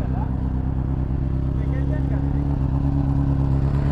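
A BMW S1000RR Pro superbike engine runs close by, producing a steady, throbbing low drone with even harmonics that holds at constant loudness throughout the four seconds.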